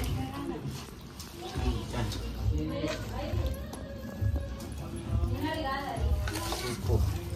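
Washed, soaked mint leaves are stirred in a pan, a steady scraping and shuffling with light sizzle continuing under a talking voice.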